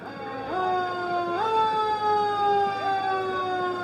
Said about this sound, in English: This is Linda Fire, one of their new engines.